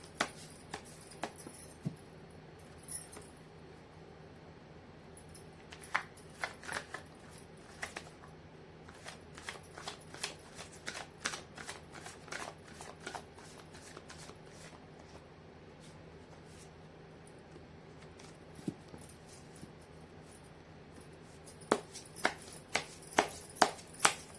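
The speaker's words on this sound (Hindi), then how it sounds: "कर लेती हूँ कार्ड की शफलिंग।" Tarot cards being shuffled by hand on a table: a quiet run of soft, irregular riffles and taps spread across the span, bunching into sharper clicks near the end, with no voices.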